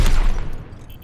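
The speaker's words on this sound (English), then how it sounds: "Fire your helix rockets at the targets." Helix rockets fired and exploding in Overwatch, a short loud blast of overlapping booms that quickly fades into a fizzing tail, alone without speech.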